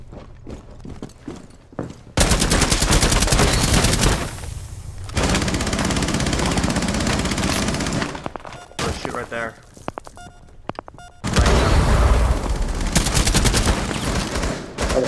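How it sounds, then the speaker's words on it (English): Heavy bursts of automatic gunfire in the video game Rainbow Six Siege, loud sustained volleys broken by short gaps and scattered single shots, with voices talking in between. "They're shooting."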